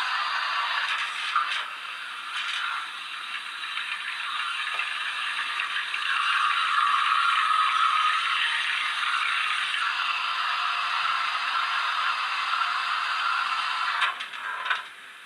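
Injector sound from a Rapido Hunslet 16in 0-6-0ST model steam locomotive's factory sound fitting: a continuous rattling hiss with a mechanical chatter that swells slightly midway, then stops abruptly near the end.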